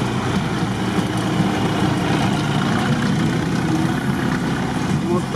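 Off-road trucks such as a GAZ-63 on KrAZ tyres, a Shishiga and a Dodge, with a steady low engine drone and rumble running unbroken, loud and close.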